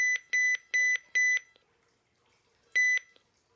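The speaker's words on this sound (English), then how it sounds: "when it beeps, it also sort of turns on the weather radio and turns it off again" A RadioShack 12-259 clock radio alarm beeps four times in a quick steady rhythm, falls silent, then beeps once more; clear, close and fairly loud.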